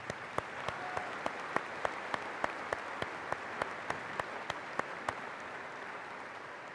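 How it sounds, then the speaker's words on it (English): A few people clap slowly and unevenly at a spring university commencement ceremony, sparse distinct claps over quiet hall ambience, faint and somewhat distant. "Please join me in a round of applause."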